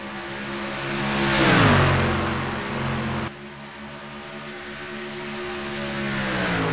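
Race cars roar past during a simulated Piston Cup race at Atlanta Motor Speedway, late in the event with laps winding down. Engine drone swells to a loud pass near the middle, then a steady, slightly quieter engine roar continues with no talk.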